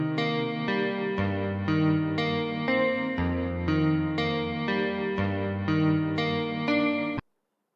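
Melancholy music loop from a sample pack, played with EQ and reverb effects: repeating chord stabs in a steady rhythm with a distorted, chorused texture, loud and alone, ending abruptly.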